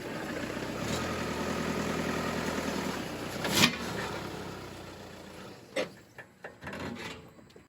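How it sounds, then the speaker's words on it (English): A Volkswagen car's engine runs at a low steady drone while driving up onto ramps, easing off partway, followed by a few sharp clunks and knocks close by. "First, we're going to drive up our vehicle on ramps to drain the fluid."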